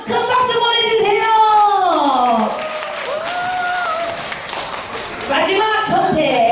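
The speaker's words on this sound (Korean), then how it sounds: "자, 여러분 큰 박수 보내주세요." Audience applause at a Korean community sharing-and-care event, sustained loud clapping from a crowd while music and a singing voice carry over it, dipping midway then swelling again.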